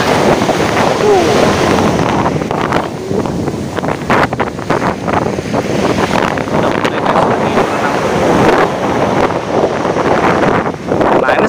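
Ocean waves and gusting wind at Pandawa Beach in Bali, a constant loud roar of surf with wind buffeting the microphone throughout.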